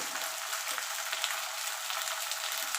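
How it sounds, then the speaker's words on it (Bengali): Okra frying in a pan makes a steady, moderately quiet hiss with fine crackles throughout, and no voices are heard. "ভেন্ডিটাকে একটু আমি মিনিট দুয়ে ধরে একটু গায়ে রং আসা পর্যন্ত ভেজে নেব"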